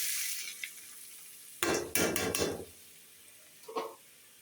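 Potato, eggplant and tomato go one by one into oil left over from frying fish. A loud burst of sizzling with clattering and stirring follows, then it settles to a quiet hiss with a single brief clink.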